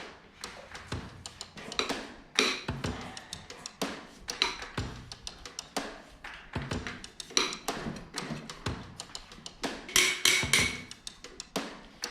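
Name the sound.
dead blow hammer striking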